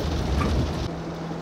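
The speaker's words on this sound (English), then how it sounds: "it sounds like I'm in someone's shed. Just the wind and rain sounds are absolutely" Simulated wind and rain inside the X-Plane 11 flight simulator, a steady loud wash of broadband noise like rain drumming on a shed, continuous throughout with a slight drop in level near the end, no voices.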